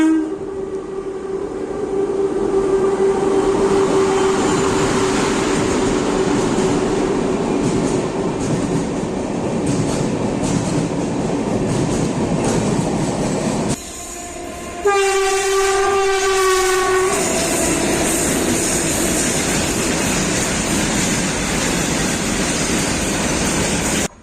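Passenger train running from Chengalpattu to Gummidipundi, heard from on board with a loud continuous rumble and clatter of wheels, a horn sounding steadily early on and a brief break near the middle before the roar resumes.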